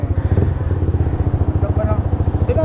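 A Yamaha R15 motorcycle fitted with a replacement exhaust idles close by, its engine pulsing in a quick, even, throaty beat that stays loud and steady, with faint voices in the background.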